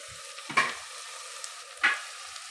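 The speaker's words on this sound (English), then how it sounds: "now you can add in your garlic and ginger. Then let them brown together." Garlic and ginger frying in a pan for sausage pilau, a soft background sizzle broken by two sharp stirring scrapes.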